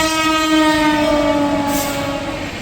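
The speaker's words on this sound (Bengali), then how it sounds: "ফেরার পথে ও ট্রেনের গেট পড়ে গেছিলো, এই যে যেটা যাচ্ছে ধৌলি এক্সপ্রেস।" The Dhauli Express passes a closed level crossing, its horn sounding a loud sustained blare with layered tones over the rumble of the rolling train close by.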